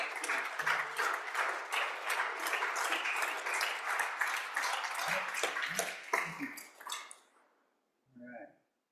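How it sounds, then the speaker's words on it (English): Applause from a room of people in a Senate chamber floor session, steady for about seven seconds with some voices mixed in, then tapering off and ending in quiet. "One more round of applause for our friends."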